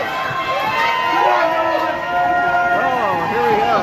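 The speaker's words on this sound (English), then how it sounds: "Somebody woke up the Giants crowd as they're up by six goals and they are now excited for some reason." A youth baseball crowd cheering the Jackson Giants with excited shouts and high children's voices over a steady babble, loud and close throughout.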